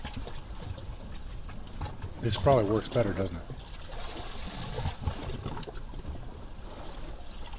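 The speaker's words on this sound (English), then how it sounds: "I would hear water lapping underneath the hut, just like we hear in the sound design that I'm playing now." Theatre sound design of water lapping under a hut, a quiet steady trickle and lap of water playing under a man's speech in the middle.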